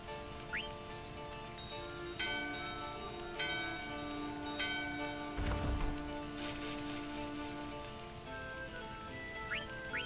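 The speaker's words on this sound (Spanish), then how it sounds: "vamos a usar la campana aquí" A bell item is used in the video game Final Fantasy IX, giving several bright, ringing chimes that sustain and decay over layered game music, with no talk.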